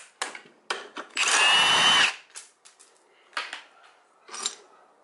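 A power tool working a stubborn bolt on the head of a 212 Predator racing engine that blew its piston: short impact bursts and one longer sustained whirring run, with metallic clanks and rattles between, close by.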